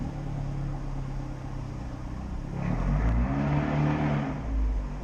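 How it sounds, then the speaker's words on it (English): In an underground car park, an Abarth 124 Spider's engine rumbles at idle and then climbs into a louder, echoing rev in manual mode, the roar building in the final seconds. "We're in manual mode, so we can control the revs."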